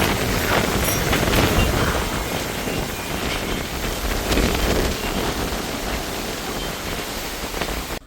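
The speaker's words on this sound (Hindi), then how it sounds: "आंधी आ रही फ्रेंड, बहुत तेज कस के है।" A strong windstorm with rain roars steadily and loudly in a rural village, a dense, unbroken rush of wind and pouring rain with gusts swelling and easing, no voices.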